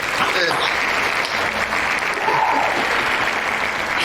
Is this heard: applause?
yes